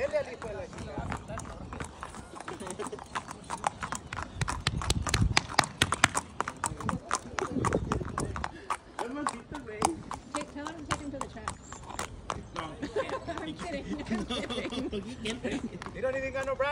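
Hooves clip-clop in a quick, steady rhythm as a bareback horse in a halter goes past, with people talking and calling out over the hoofbeats.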